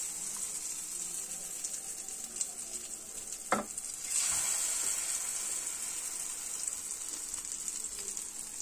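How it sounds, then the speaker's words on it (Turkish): Sauced eggplant pieces sizzle and fry in hot oil in a pan, a steady bright crackling hiss throughout with a brief clatter as they go in and the sizzle swelling afterward. "tavaya yağ aldık ve kızdı. Soslamış olduğumuz patlıcanlarımızı içerisine koyuyoruz."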